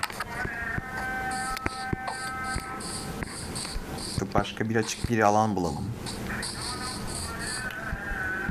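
Bees buzz in the Minecraft video game as a steady insect drone beneath near, continuous talking by one voice.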